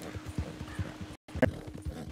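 A horse's hooves clip-clop in a quick gallop in the video game Red Dead Redemption 2, a steady, fairly faint rhythm with a brief cut of silence partway through.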